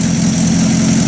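A Buick Roadmaster's engine runs at a steady idle with an exhaust leak, making a loud, close, constant low drone and rumble with no pauses.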